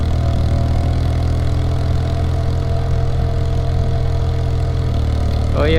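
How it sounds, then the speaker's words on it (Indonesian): An old Yamaha XS650 motorcycle on a countryside tour drones steadily and loudly up close as it rides, the tone shifting slightly near the end before a brief high chirp. "ini perjalanan kali ini saya menggunakan motor tua ya teman-teman, Yamaha XS 650 spesial"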